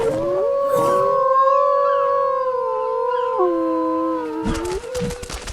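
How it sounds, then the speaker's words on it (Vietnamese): A direwolf in the survival game Ark howls in a long, sustained, wavering cry that shifts pitch midway, loud and close, ending with a few rustling footfall sounds. "Tôi lùi lại một chút rồi hú lên để lấy lại tinh thần."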